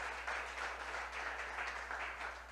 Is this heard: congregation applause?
yes